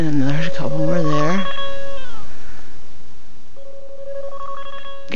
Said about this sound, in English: Guess my phone rang while I was busy.